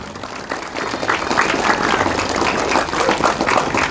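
An indoor audience applauds the kiai at a public talk, with steady dense clapping from a crowd rising and holding throughout, heard alone without speech.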